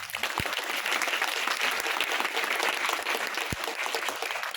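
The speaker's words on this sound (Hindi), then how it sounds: "सबके लिए एक बार जोर से ताली बजा दें।" A crowd at a college National Science Day event claps loudly for the participants, steady dense applause filling the whole stretch with a couple of sharper individual claps standing out.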